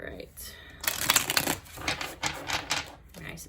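A tarot deck being shuffled by hand, a quick rattling riffle of cards that builds to a busy flurry and trails off, close up.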